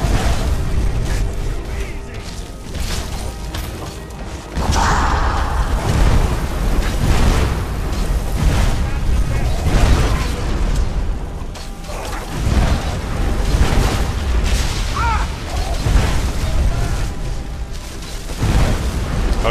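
Dragon shout Fire Breath in Skyrim, a roaring rush of fire with rumbling booms and explosive bursts, loud and sustained over game ambience, with faint voices underneath.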